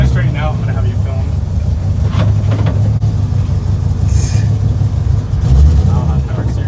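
LS-swapped FRS backing out slowly, a steady low engine rumble close by with a few light clunks and brief voices over it.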